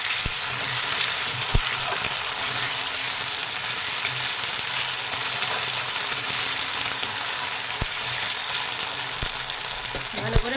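Chopped onion and ginger-garlic paste sizzle steadily in a hot oiled pan, a loud, continuous crackling fry with occasional scraping and stirring clicks.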